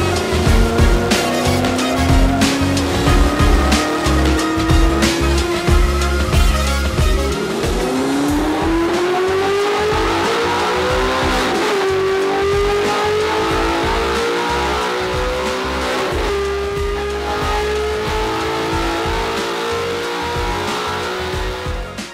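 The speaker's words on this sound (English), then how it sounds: "Let's get the dyno going because I want to see the Supersprint exhaust," An Audi R8 fitted with a Supersprint race exhaust revs hard on a dyno, loud and close, its engine pitch climbing through repeated gear pulls with brief dips between, a sustained roaring wail for over twenty seconds.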